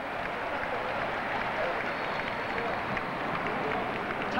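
Spectators at a boxing bout between Jung Koo Chang and Agustin Garcia keep up a steady roar of cheering and clapping once the referee halts the fight, with a commentator talking faintly over the crowd noise.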